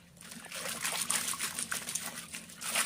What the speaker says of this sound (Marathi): आणि हे पाणी सुद्धा आपल्याला गाळून घ्यायचं आहे.